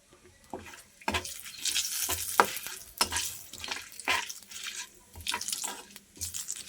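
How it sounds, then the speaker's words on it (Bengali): Potatoes frying in a pan with cumin seeds and bay leaves for a Bengali banana-flower and prawn dish, with repeated scraping stirs and a steady sizzle, close and moderately loud. "এবার আমি আলুগুলো একটু ভালো করে লাল লাল করে ভেজে নেব।"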